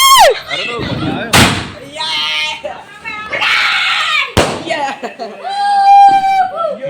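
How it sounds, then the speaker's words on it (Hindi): Firecrackers set off by an aunt during Diwali burst in two sharp, loud bangs a few seconds apart, surrounded by excited screaming, high whistling tones and people talking close by. "अब गाइस मेरी चाची भी पटाखा जला रही है"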